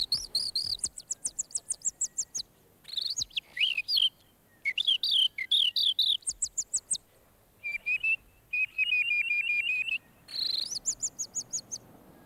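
A man whistles an imitation of birdsong by mouth, without fingers: rapid chirps, trills and warbling runs in repeated bursts with short pauses, loud, close and alone, with no talk.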